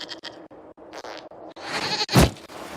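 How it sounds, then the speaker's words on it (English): Goat bleats inside the fantasy video game Dragon Age: Inquisition, a short series of nasal calls that build to one loud, rough bleat near the end, heard alone with no talk. "we discovered this man attacking the building with a goat"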